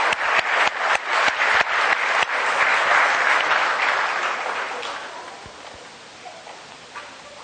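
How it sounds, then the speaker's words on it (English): An audience claps at a children's elimination contest. It opens with a few sharp, separate claps that quickly swell into a full round of applause, which then gradually fades to scattered faint claps. "And round of applause for them."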